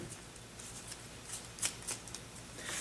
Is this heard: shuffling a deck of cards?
yes